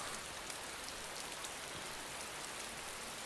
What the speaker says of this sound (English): This rain's actually really cool.